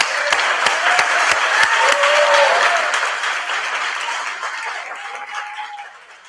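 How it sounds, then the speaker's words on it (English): Audience at an entrepreneurial awards gala breaking into applause, a loud, full round of clapping with a few sharp individual claps up front, gradually fading as voices and cheers rise briefly over it. "One more time, roll around, applause for that amazing brother right there"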